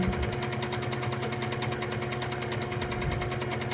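A Baby Lock quilting machine stitches in manual mode with a steady, rapid mechanical hum and fast repetitive needle rhythm, close and continuous with no talk.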